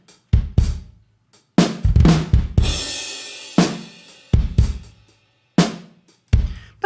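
A processed drum kit pattern from the Batas Drum ReFill, punchy kick and snare hits in a spaced groove with a crashing cymbal wash partway through, each hit sharp and decaying quickly into silence.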